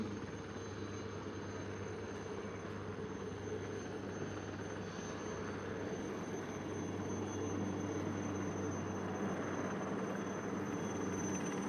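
Chetak military helicopters fly during a sea rescue demonstration at the Beating Retreat and Tattoo ceremony, a continuous heavy rotor and engine drone that holds steady and loud throughout with no voices.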